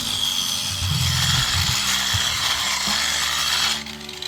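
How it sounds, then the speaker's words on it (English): A power tool grinds and cuts into concrete blocks at a building site, a harsh continuous buzzing with rattling mechanical texture, loud and close, easing slightly near the end. "Smoothing out those concrete blocks where he's cutting them."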